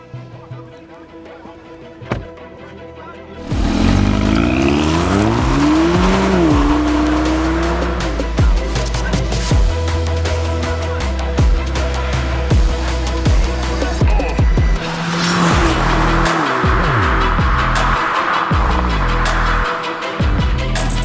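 A 2019 Hyundai Elantra GT N Line with a dual-clutch gearbox pulls away after a quiet start, its engine rising and shifting through gears loudly and close for most of the run, with brief tire noise.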